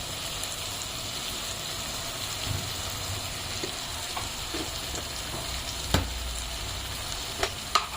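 Turmeric and masala sautéing in a pan for Kolhapuri dudhatal birda, a steady soft sizzle with occasional clicks of stirring and a couple of sharper taps near the end.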